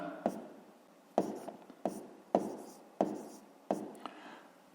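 A pen writes on paper while working a 5th-grade maths exercise, giving short scratchy strokes in six separate bursts with quiet pauses between, close and soft.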